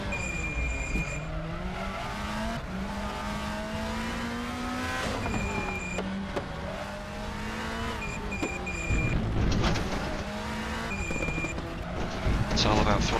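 Race car engine in RaceRoom during a WTCC league round at Karlskoga, revving loud and close, with throttle blips as it downshifts into the first turn, plus bursts of tire noise, all under steady commentary.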